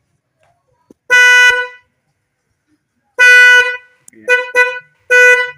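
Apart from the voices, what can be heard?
snail-type horn on a Honda Vario motorcycle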